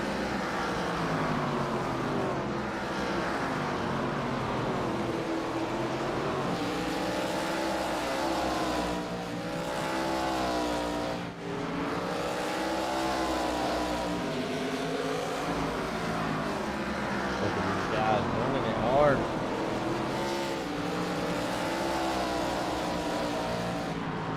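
Pro Cup Series race cars at Southern National roar continuously around the track, engines droning and shifting pitch as they pass, loud and steady throughout with no one speaking.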